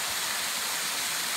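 Steady, broad rushing of falling water at Secret Falls near Woodsville, New Hampshire, constant and fairly close, with no voices.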